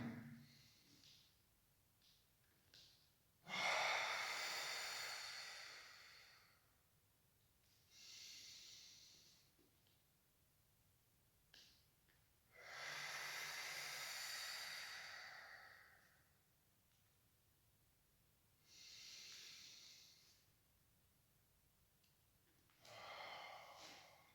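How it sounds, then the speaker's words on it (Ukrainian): Slow, deep breathing in and out to recover breath during an exercise session, with several long, airy breaths separated by quiet pauses, close and alone. "Декілька вдохів-видохів, щоб відновити дихання."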